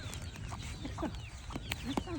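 A chicken clucking in a village setting, with several short clucks heard over a constant background hum along with brief indistinct sounds.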